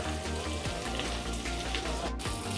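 Fish frying in a pan over a low gas flame, a dense, steady sizzle and crackle that runs continuously and close throughout, with no voices.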